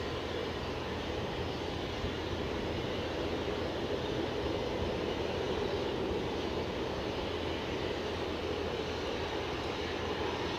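An ATR turboprop airliner at Aberdeen airport gives off a steady, loud broadband engine roar that holds constant throughout, with no one speaking.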